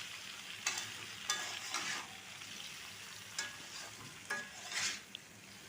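Raw mango pieces tossed with turmeric in a pan over very low heat, giving a soft, steady sizzle with a few scraping stirs of the utensil at irregular intervals, close and quiet, with no talking.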